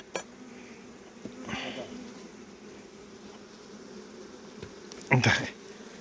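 Carpathian honey bees buzz steadily at an open hive on a mountain apiary in the Carpathians, a low continuous drone with a couple of brief closer passes and light handling clatter.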